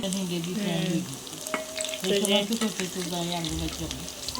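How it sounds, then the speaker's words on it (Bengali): Pumpkin frying in a kadai on a gas stove, a steady sizzle with occasional stirring scrapes, close and moderately loud. "ভাজি বসাই দিছি এই চুলায়"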